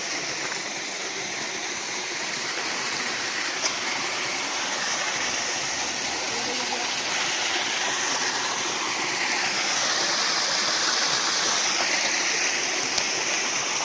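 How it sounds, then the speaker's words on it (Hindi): Spring water from a stepwell near a temple in Dehradun flows in a steady, rushing stream, a continuous broadband wash that stays fairly even and moderately loud with no voices. "यहाँ देख सकते हैं आप एक और जगह से पानी निकल रहा है"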